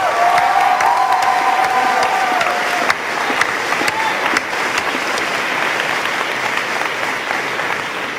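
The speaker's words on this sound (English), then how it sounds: "Let's give them a round of applause." A crowd at a graduation ceremony applauds its teachers with loud, sustained clapping and scattered cheers, the volume easing slightly partway through while the clapping carries on to the end.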